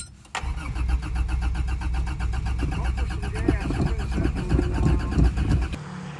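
A car engine cranks and catches on a cold day, then settles into a steady, loud idle with a slight rise near the end before it cuts off abruptly.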